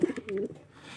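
White Sirazi pigeons coo in a loft: a few soft, low, throaty coos in quick succession, close to the listener and heard without any talking.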